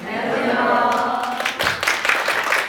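Audience clapping in a lecture room for a real estate law class, a short burst of hand claps that follows a voice and then tapers off.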